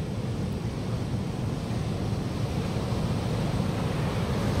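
Large ocean waves break and roll onto the beach at Puri, a loud, continuous roar of surf with wind rumble, steady throughout with no voices.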